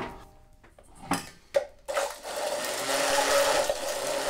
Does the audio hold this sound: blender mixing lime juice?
yes